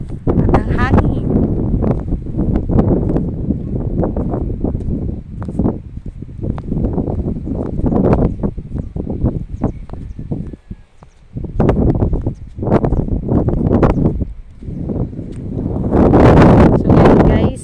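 Strong gusty wind buffeting the microphone outdoors at Sitio Sugod on Calaguas Island, loud rumbling bursts that rise and fall, with a lull near the middle and a heavy gust at the end.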